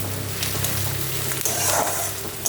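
Fish cooking in a pan for a light summer fish curry, with steady close sizzling and frying crackle plus occasional stirring scrapes, no talk.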